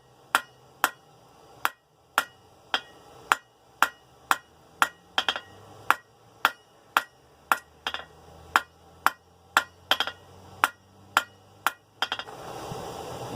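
A hammer strikes a tapered steel slot punch being forged, about two dozen sharp ringing blows in a steady even rhythm, close and loud with no voices.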